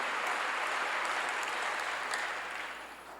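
A church congregation at a Korean prayer sermon breaks into a steady wash of applause that stays dense and even before fading toward the end, moderately distant and without voices.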